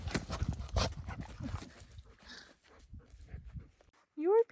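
A puppy at a campsite shuffles and moves near the listener, then gives a short, rising whine at the end while a person talks softly to it.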